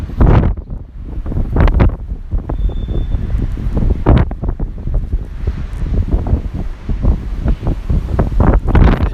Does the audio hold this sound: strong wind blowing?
yes